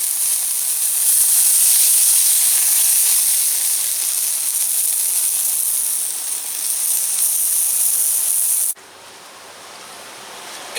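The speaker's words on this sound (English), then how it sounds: "let's just sear this thing off now" A beef burger patty searing on a grill, a loud, close, continuous hiss and sizzle that holds steady, then drops sharply to a softer sizzle near the end.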